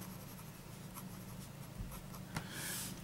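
Medium-nib fountain pen with slight smoothing scratching across paper, a soft continuous scribbling close up with brief strokes and lifts, no voices.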